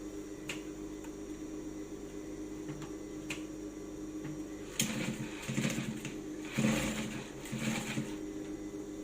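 Sewing machine stitching a boning channel on a corset: quiet mechanical hum with light ticking, then short bursts of faster, louder stitching in the second half.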